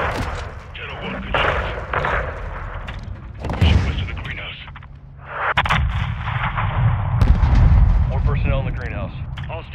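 Heavy 40mm cannon fire pounds away in Call of Duty Modern Warfare 2, loud booming bursts and rattling blasts repeating over several seconds while tense radio voices talk between and over the shots.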